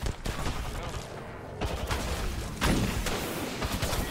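Gunfire in a video game on the E-District map, bursts of rapid shots and thumps in several clusters, loud and close.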